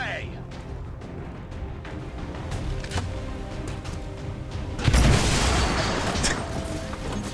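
A grenade explosion in XCOM 2, a sudden loud broad blast partway through that lingers as a rumbling decay, preceded by game ambience and voices talking.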